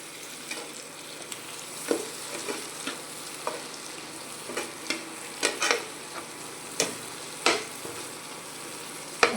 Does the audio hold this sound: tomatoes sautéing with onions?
yes